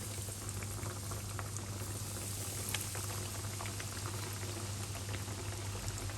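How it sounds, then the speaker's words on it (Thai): Breaded pork cutlets deep fry in hot oil over medium heat, a steady dense sizzling bubble that stays loud and even throughout, with a low hum underneath and no voices. "จากนั้นนำหมูลงทอดเลยค่ะ"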